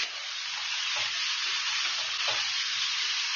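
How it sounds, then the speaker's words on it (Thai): Vegetables sizzle and hiss in a hot pan over high heat while being stir-fried with a little sugar, a steady frying noise broken by soft scraping stirs, close and without talk. "ผัดให้ผักสุกนิดนึง ไฟแรงหน่อยไปได้แล้ว"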